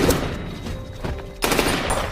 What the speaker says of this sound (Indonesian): lalu John pun menembak para bodyguardnya.